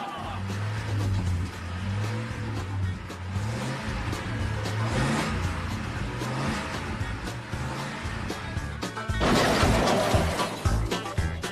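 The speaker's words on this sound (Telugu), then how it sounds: "అదిగో చూడండి, ఇంకొక కూల్ మాన్స్టర్ ట్రక్ వస్తోంది." A monster truck engine roars continuously with a deep, rumbling drone, swelling into a louder, harsher burst of revving near the end.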